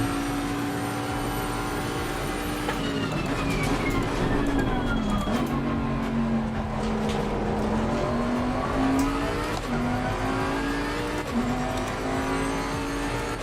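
Bentley GTC race car lapping the Hungaroring in the Assetto Corsa racing game, its engine droning loud and continuous as the pitch sweeps down and back up through corners and gear changes.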